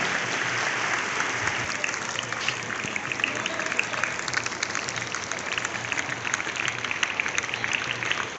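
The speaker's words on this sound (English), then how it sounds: "give a big round of applause" Dense, sustained applause from an audience at a school annual exhibition, many hands clapping at once, loud and even for the whole stretch.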